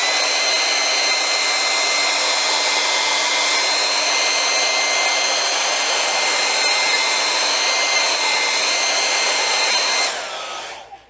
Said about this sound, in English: I can flip it, hit it with a hairdryer, and it'll flatten back out.